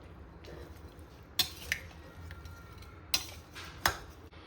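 A spoon stirs cooled, room-temperature oil into homemade mango pickle: soft wet squishing with a few sharp clinks of metal against the container, close and fairly quiet, with no talking.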